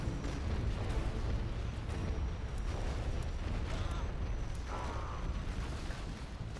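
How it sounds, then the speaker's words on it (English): Heavy cannon shell explosions and artillery blasts in the C&C Generals Zero Hour strategy game, a dense continuous barrage of rumbling booms and bursts filling the whole stretch with no pauses. "That new cannon shell is so freaking brutal, though."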